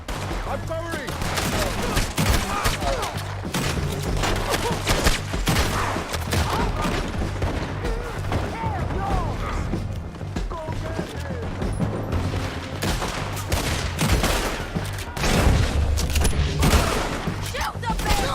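Rapid, overlapping gunfire from a shootout in Red Dead Redemption 2, loud close shots and bursts cracking continuously over rumbling low booms, with voices shouting faintly beneath the din.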